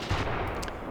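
Incendiary artillery firing in the war game Graviteam Tactics Mius: one loud, dense blast that swells into a roaring rumble, sustained and heavy for a full second.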